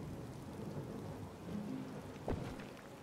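Steady rainfall in the video game Disney Dreamlight Valley patters softly and evenly, with a brief low rumble of thunder rising near the end, no voices over it.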